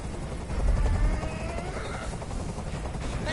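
A helicopter in the video game Detroit: Become Human gives off a steady, loud rotor rumble. It swells briefly, then holds as a dense, continuous drone.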